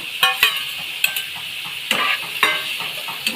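Boiled cauliflower sizzles in a pan while a metal spoon stirs and scrapes it, several sharp clanks against the pan punctuating a steady close frying hiss, with no talking.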